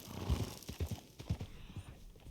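Horse hooves clip-clop in a video game as the animal rides through desert cacti, a rhythmic run of dull thuds in uneven pairs, fairly close and alone with no talk.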